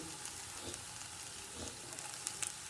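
Spices such as cinnamon stick sautéing in a pan for a Kerala breadfruit curry: a faint continuous sizzle with a couple of soft stirring scrapes and small pops, low and close.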